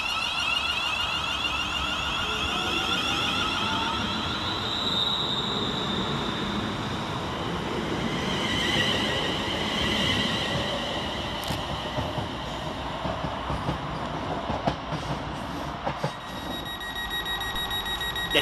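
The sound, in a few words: West Midlands Railway train 35405 departing Aston station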